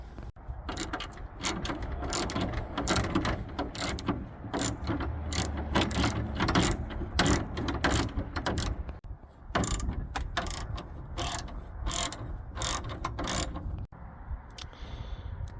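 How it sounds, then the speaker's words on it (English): A ratchet removes the 10 mm screws holding the front grille of a Ford F-150, producing repeated bursts of quick, close, crisp clicking with brief pauses between runs. "you will have 2 more screws to remove, which are still holding that front grille"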